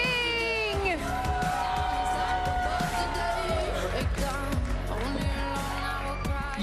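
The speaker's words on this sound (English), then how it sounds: "we're just gonna keep clapping for you" A crowd claps, whoops and yells for Blue Origin astronauts, including Katy Perry and Gayle King, at a press conference after their launch. Loud, sustained cheering with sharp clap bursts and rising and falling shouted voices.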